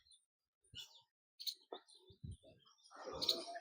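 A bulbul and sparrows coming to eat sev near a pot outdoors give a few short, sharp chirps and tweets at close range, scattered across a quiet morning with small clicks in between and a fuller flurry of calls at the end.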